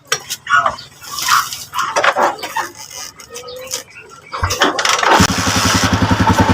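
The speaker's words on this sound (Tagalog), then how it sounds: "So paanda rin natin yung motor." A Honda TMX155 motorcycle engine cranks and catches near the end, settling into a steady rapid idle thump after scattered clatter and shop noise, with a voice talking early on.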